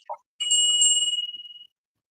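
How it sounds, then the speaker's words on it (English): A bell called the Heavenly Star Bell is struck once, giving a bright, clear ring with a quick trembling shimmer that rings on and fades out after about a second, close and loud. "This is officially called the Heavenly Star Bell."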